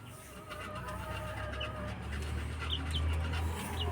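A hen clucks faintly in short, scattered calls over a steady low background hum outdoors, with no talk.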